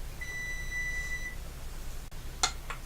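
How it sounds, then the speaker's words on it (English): A kitchen timer goes off while a Jolly Rancher apple candy is being made. It gives a steady electronic tone and then a few short beeps later, fairly faint, with no talking. "Oh, the timer again."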